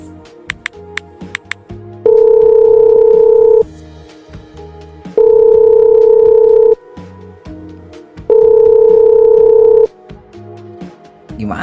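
An unanswered telephone call rings back in an animated school drama, sounding three long, steady tones separated by pauses, with faint keypad beeps at the start and no voices.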